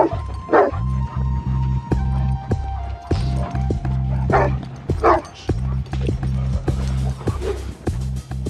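An overexcited dog barks in repeated bursts while it plays ball, the yelps and woofs coming in quick clusters over a steady low motor-like hum, with scattered thumps and brief voices in the background.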